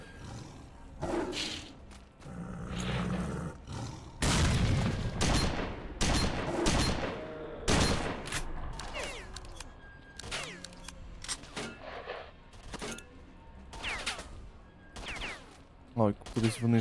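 Grenade blasts and gunfire in the shooter game STALKER: Shadow of Chornobyl, with loud bursts and booms spread through the clip and roaring creature noises, mixed with a player talking.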